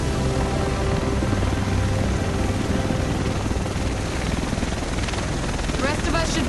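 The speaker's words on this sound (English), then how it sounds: "The rest of us should be in this chopper." A helicopter arrives in The Division, a steady loud rotor drone that holds throughout, with voices talking over it.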